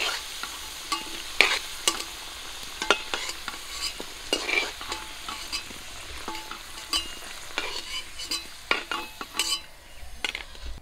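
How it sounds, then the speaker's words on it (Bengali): Potatoes frying in hot oil in a village kitchen, a soft continuous sizzle broken by frequent clinks and scrapes of a spatula against the pan, close and fairly quiet, with no voices. "আলুগুলো লাল করে ভেজে নিয়েছি"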